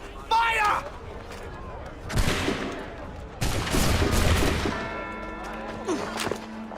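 Musket volleys in an Assassin's Creed III cutscene, several sharp bursts of gunfire that crash and rumble amid shouting voices, then die away to lighter noise.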